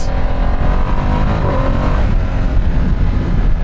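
A Ducati Streetfighter V2 S motorcycle accelerates hard with a loud, rising engine roar, a brief pitch drop marking a quick shifter gear change, and steady wind rush throughout.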